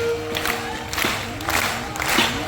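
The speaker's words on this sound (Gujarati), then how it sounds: "તાળી વગાડો" Audience clapping at a Gujarati lok dayro folk music gathering with Devotional Shiva chanting; a broad, steady wash of many hands applauding together, swelling in waves over faint lingering tones.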